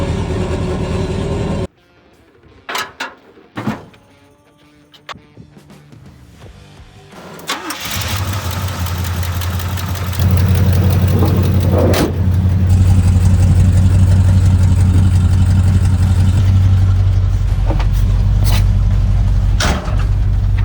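An old truck engine with its exhaust dragging on the ground cranks and starts, then rumbles loudly at idle with rough, rattling exhaust noise and occasional clunks.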